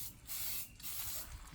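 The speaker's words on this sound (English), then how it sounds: "Now he applies the coating, zinc coating, for preventing from rusting." Zinc coating sprayed onto a homemade steel pull-up bar, heard as close hissing bursts from an aerosol can, two or three spurts in quick succession.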